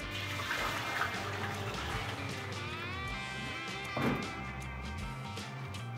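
Sanitizer liquid drains from a beer keg during homebrew kegging, a steady close trickle and splash of running liquid with a brief louder gush partway through.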